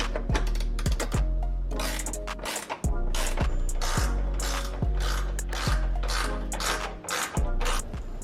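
Ratchet working bolts on bumper brackets for a Toyota Trueno bumper install, a loud, dense run of repeated clicking strokes in an uneven rhythm, close up with clattering metal and no talk.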